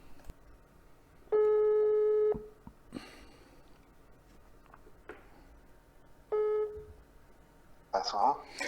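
Two long electronic phone tones sound about five seconds apart amid faint clicks and handling noise, with a short burst of activity at the end.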